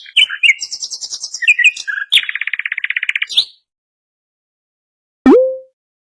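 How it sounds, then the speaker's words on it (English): A nightingale sings bright, rapid phrases of high chirps and fast repeated trills, close and clear against silence, ending before a lone short tonal blip after a pause. "nightingale,"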